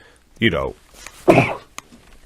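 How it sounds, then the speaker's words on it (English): A single sneeze from a man during a baseball podcast conversation, an abrupt loud burst close to the mic, followed by a small exhalation and a brief click. "Had a little sneeze there."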